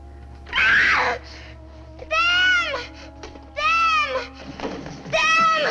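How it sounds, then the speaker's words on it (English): A girl in the 1954 film Them! lets out repeated loud, piercing screams in short bursts after formic acid is held under her nose, separated by brief pauses over a steady low hum. "Jolted into a panic, she screams."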